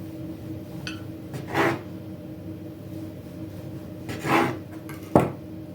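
A knife saws through a soft sponge roll cake dusted with powdered sugar, giving a few brief rasping strokes and a final sharp tap on the board, close and quiet with no talk.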